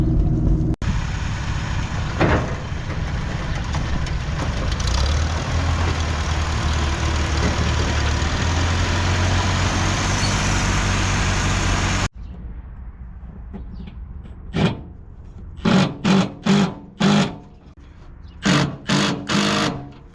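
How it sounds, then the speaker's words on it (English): A 1953-era Farmall Cub tractor engine runs steadily and loudly while being loaded onto wooden truck ramps, then cuts off abruptly, leaving a series of sharp knocks and clunks. "test out our new ramps, of course, make sure they work, and see how the Farmall Cub fits in the back now"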